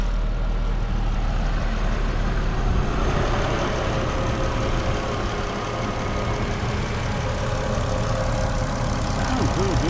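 A 1997 Mercedes C-Class inline-six engine idling just after being started, a steady, even mid-low hum heard close up, with a faint voice murmuring in the background.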